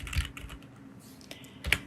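Brief bursts of typing on a computer keyboard, a few quick clustered keystrokes close up with a sharper click near the end, no voices.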